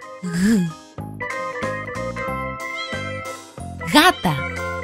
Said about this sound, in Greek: Γάτα.